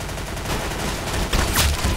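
An MP7 fires in Roblox Arsenal as rapid automatic bursts, loud and close, running across the whole stretch with a sharper volley near the end and no talking.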